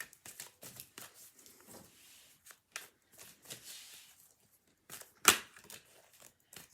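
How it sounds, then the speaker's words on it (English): Soft papery riffling and shuffling of tarot cards, in quiet bursts with a sharper snap near the end, close and without speech. "I shall shuffle Pamela out of the pack."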